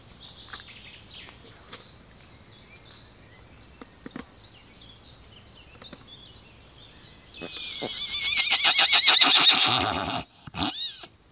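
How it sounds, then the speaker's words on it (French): A pony whinnies loudly near the end, a long shaky neigh rising and then breaking off, after a quieter stretch of faint chirping sounds. "Je suis vraiment fan de ce poney, il est trop mignon"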